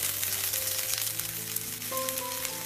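Two large onions, sliced lengthwise, hiss and sizzle steadily in hot oil in a pan, a dense continuous frying crackle with faint tonal hum underneath.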